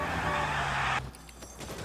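A car driven through the streets of 1940s Los Angeles in the video game L.A. Noire, its steady engine drone and rolling road noise loud for about a second, then dropping away to quieter ambience.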